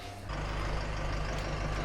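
A bus pulls up in a snowy Cumbrian town, its engine rumbling steadily and loudly with a low drone throughout, nearby and alone without talk.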